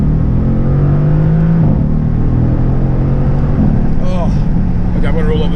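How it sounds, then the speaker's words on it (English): A tuned 760 hp RENNtech Mercedes-AMG GT S sports car engine rumbles steadily up close with a deep idle and slight revs, and voices briefly speak near the end. "engine start. So this is the Mercedes AMG GT."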